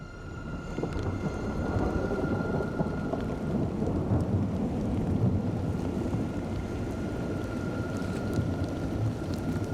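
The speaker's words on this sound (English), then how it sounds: "The rain falling now on the burn zones begins carrying ash and plant debris." Heavy rain from an approaching storm in the Bouches-du-Rhône, with a dense, continuous downpour and low rolling thunder rumbling underneath throughout.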